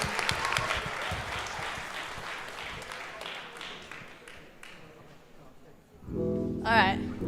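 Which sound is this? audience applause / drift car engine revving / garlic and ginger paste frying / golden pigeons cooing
audience applause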